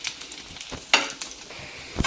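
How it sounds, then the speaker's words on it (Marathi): Potato and poha vadas shallow-fry in a pan, a light sizzle broken by a few sharp scraping and clinking touches of a utensil. "आता ह्या बाजूनी पण आपण चांगले कडक होईपर्यंत भाजून द्यायचे."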